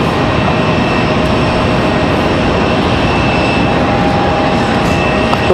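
A large airliner passes at Raleigh-Durham International Airport, a loud, steady broadband engine roar holding constant throughout without any break.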